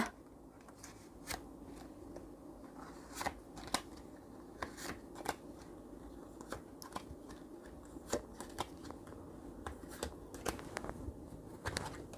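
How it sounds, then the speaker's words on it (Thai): Tarot cards picked from a deck and handled during a monthly reading, giving soft papery flicks and slides at irregular intervals, close and fairly quiet, with no talk over them. "อาจารย์จะเลือกไพ่ทั้งหมด 12 ใบนะคะ"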